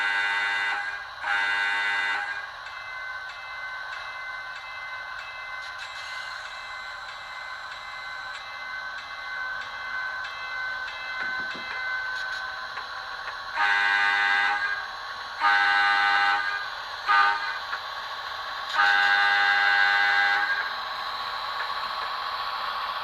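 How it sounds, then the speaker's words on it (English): A SoundTraxx-decoder model locomotive idles in HEP mode, its prime mover holding a steady drone while horn-like tones blare in several separate blasts over the even engine hum. "you're going to hear that the locomotive's in HEP, so your prime mover doesn't really change and it's ready to go"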